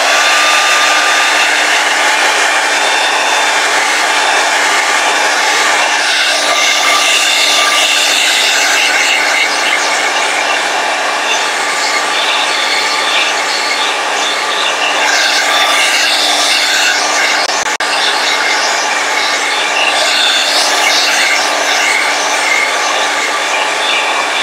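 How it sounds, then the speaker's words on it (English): A blow dryer roars steadily and close up the whole time, drying layers of acrylic paint on a painting, with only slight shifts as it moves. "blow dryer it is."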